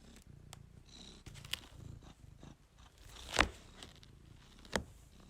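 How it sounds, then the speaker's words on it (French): Cat purring close by, a soft low rumble running throughout, with a few brief clicks and rustles from handling breaking through. "Vous avez droit au petit ronron du chat, un des chats."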